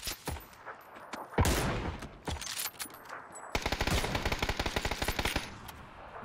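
Bursts of gunfire in the video game PUBG, single shots followed by a long rapid automatic volley, sharp and close with no talking.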